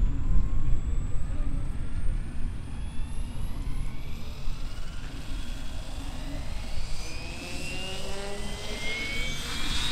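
A Logo 700 RC helicopter flies overhead at a 3D aerobatics competition, a steady whining turbine-like drone with rising and falling rotor pitch and wind rumble, under a commentator's voice on a public address system.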